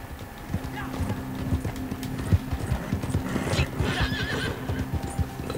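Rhythmic clip-clop of horse hooves trotting steadily in the video game Red Dead Redemption 2, close by, with a horse whinnying partway through.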